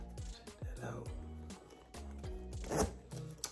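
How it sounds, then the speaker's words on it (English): A zipper on a leather-lined designer boot is worked in quick repeated pulls, producing short rasping zips and clicks up close, faint under a nearby voice. "what I like is zips on both sides"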